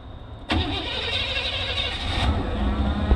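An old, cheap pickup truck's engine cranks briefly, then catches and settles into a steady running idle, close and fairly loud, with no talking.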